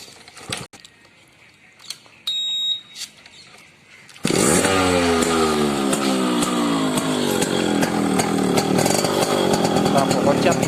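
A Yamaha RX 100 two-stroke motorcycle is kicked several times, then bursts into a loud, steady running idle that continues close by for the rest of the clip.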